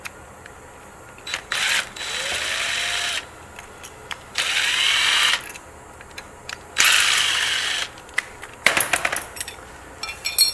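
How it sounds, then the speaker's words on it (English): A hex wrench turning out screws on the motor mounting plate of a 20500HS lifter gear assembly, heard as several bursts of fast ratcheting clicks broken by short pauses, close up, with no talk. "Now we'll remove the motor mounting plate with a 4 hex wrench."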